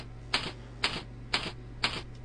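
Keys struck on a computer keyboard while entering AutoCAD line coordinates, four separate crisp clicks evenly spaced about half a second apart, close and alone over a low electrical hum.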